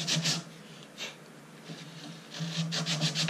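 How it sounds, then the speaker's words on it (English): Short strokes of sandpaper rub against a cedar strip for a canoe, soft rasping bursts at close range with brief quiet gaps between them. "a little bit of sanding and then check the fit again"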